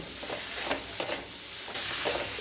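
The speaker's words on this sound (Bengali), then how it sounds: "এখন আলু আর মটর কলাই প্রেসারে একটা সিটি দিয়ে রেখেছিলাম এগুলি মশলার মধ্যে দিয়ে এক মিনিট খুব ভালো করে কষে নেব" Boiled potatoes and peas being sautéed in a spice masala, giving a steady sizzle with occasional scraping stirs of a spoon in the pan; there is no talk.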